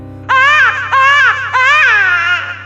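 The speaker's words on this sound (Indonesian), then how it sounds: "suara tangisan mengerikan menggema dari segala penjuru hutan" Eerie wailing cry of a child-like demon spirit echoing through a forest, three rising and falling sobbing bursts over a steady low drone, loud and close.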